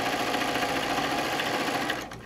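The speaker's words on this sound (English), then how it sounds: "And we're going to sew" A sewing machine stitching quilt fabric runs with a fast, steady mechanical whir and rapid needle clatter close by, then slows and stops near the end.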